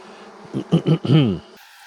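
A brief, close buzzing of honey bees on an open hive frame swells in a few pulses, droning for about a second before cutting off.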